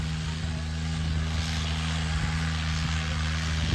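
A John Deere 5210 tractor engine at a tractor pulling contest in Jhajjar holds a loud, steady, heavy drone with a deep throbbing rumble, continuous and close throughout.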